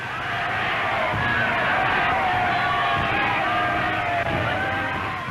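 A large crowd cheering Hitler in historical film footage, with sustained roaring, whoops and shouts from many voices, loud and continuous throughout.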